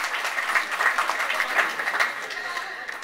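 A wedding crowd applauding during a best man's speech, a steady wash of clapping that fades slightly toward the end, mixed with a voice.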